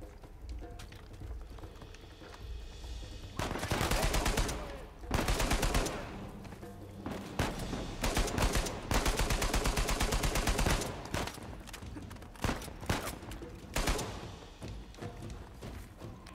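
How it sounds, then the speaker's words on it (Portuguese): Uncharted 4: A Thief's End gunfire in repeated bursts of rapid shots, loud volleys separated by quieter gaps over a low background rumble. "Meio que estamos tomando tiro, Sullivan."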